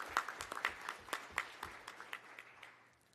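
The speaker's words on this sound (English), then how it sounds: "Please give yourselves a round of applause." Faint, sparse clapping from an audience at a crime prevention summit, a few distinct claps in an irregular rhythm that thins out and stops within three seconds.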